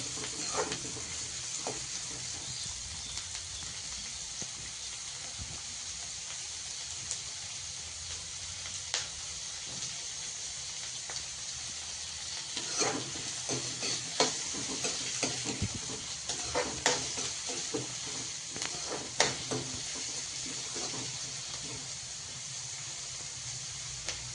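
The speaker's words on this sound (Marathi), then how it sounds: "कांदा त्याच्यात टाकू आणि कांद्याचा चांगलं कलर बदलू तर आहे ना त्याला परतून घ्यायचं आहे" Onions fry in oil in a pan for egg bhurji, giving a continuous soft sizzle broken by bursts of spoon-scraping stirs that grow busier in the second half.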